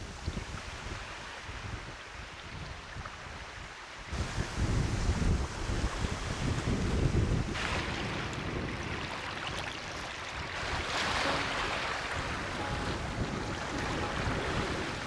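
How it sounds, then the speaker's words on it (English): Wind gusts sweep across Chilko Lake, a wilderness lake reached by gravel road, with waves splashing nearby. The loud broadband rush swells after four seconds and keeps churning steadily, and no voices are heard. "The wind is starting to pick up, as it often does on this lake"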